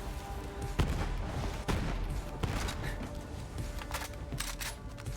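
Turret gunfire in the Borderlands 3 video game, a series of sharp, loud shots and bursts over a busy, noisy game soundscape, with the shots coming at irregular intervals.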